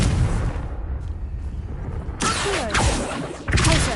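A loud Confringo fire spell blast in Hogwarts Legacy, a booming burst with a rushing whoosh that ends a stretch of muffled quiet, followed by a second hit.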